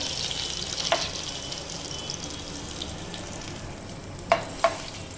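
A homemade remedy mixture sizzles and splatters in a pan, a steady frying hiss punctuated by a few sharp spitting pops near the start and two more toward the end.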